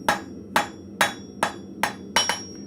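Hot steel hammered into a square taper on an anvil at a blacksmith forge: six sharp, ringing blows at a steady, unhurried pace, close and loud with a brief metallic ring after each strike.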